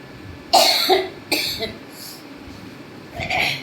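A patient coughs in three harsh, wet bursts spaced a second or so apart, close and fairly loud against a quiet room.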